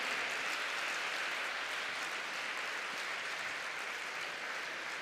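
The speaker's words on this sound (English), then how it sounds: "And one more round of applause as she leaves the court." Sustained applause from a tennis crowd at a Centre Court grass event in Shrewsbury, a dense steady wash of clapping holding at an even level from start to finish with no voices over it.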